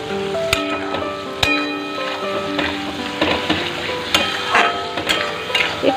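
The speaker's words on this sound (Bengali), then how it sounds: "তো চলো পেঁয়াজটা ভালো করে ভাজা হয়ে যাক।" Onions fry in a pan with turmeric and a soft, steady sizzle, broken by a few sharp clinks and taps from stirring.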